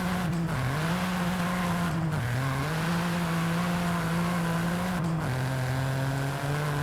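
A Ford Fiesta ST with a three-cylinder engine drones loudly in Forza Horizon 5, holding high revs with a few quick dips and recoveries as it shifts, steady and close throughout.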